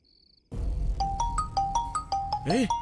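Mobile phone ringtone starts abruptly and plays a repeating electronic melody of bright beeping notes, close and steady, with a faint voice briefly over it.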